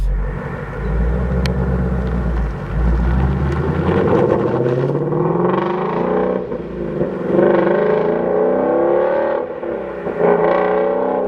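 A 2016 Shelby GT350 Mustang with its active exhaust open accelerates through the gears, a loud close engine roar rising in pitch, dropping at shifts and climbing again.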